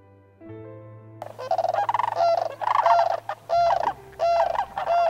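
Sandhill cranes calling in Yellowstone in spring, a series of loud rattling, honking calls repeated in bursts over a low steady background drone, fairly close, no talking.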